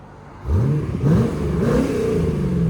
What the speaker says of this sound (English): Rev it high.